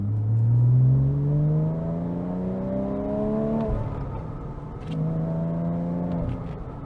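A 2007 Porsche Cayman S with a six-speed manual and aftermarket exhaust accelerates through the gears, its engine note climbing steadily in pitch, then dropping briefly at a shift before rising again, loud and continuous on a wet drive.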